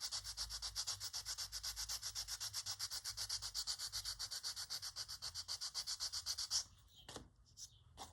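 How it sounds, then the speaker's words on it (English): A handmade tiny journal has its edge sanded by hand in steady, rapid back-and-forth rubbing strokes, close and continuous for several seconds before stopping, followed by a few faint scuffs. "let me see if I can sand it down enough"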